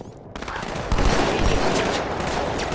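Sniper rifle fire in the video game Halo, played on Legendary difficulty against Jackal snipers, cutting in sharply after a brief quiet and followed by a dense, sustained burst of battle noise from other gunfire.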